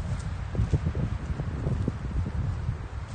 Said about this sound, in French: Il y a du vent, c'est dommage.